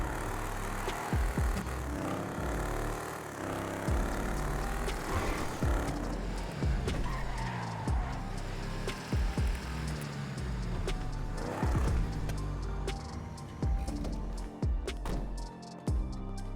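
A car driving in the video game GTA on a FiveM roleplay server: a continuous engine drone that rises and falls through gear changes, with occasional sharp knocks and clunks, loud and close with no talk.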